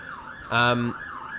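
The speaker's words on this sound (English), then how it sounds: "Sorry about the sirens, by the way. I live on a big road." A wailing siren rises and falls in the distance beside a big road, joined briefly by a louder burst of traffic noise passing nearby.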